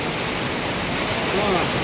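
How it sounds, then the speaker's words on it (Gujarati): Heavy monsoon rain pours down in Kamrej, Gujarat, a dense, steady hiss that fills the whole clip at a loud, unbroken level. "ફૂલ વરસાદ ચાલુ થઈ ગયો."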